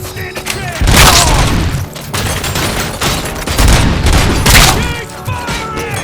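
Heavy gunfire and booming blasts in the RoboCop: Rogue City shooter game during a bank robbery mission, loud repeated volleys in several surges with short lulls between them.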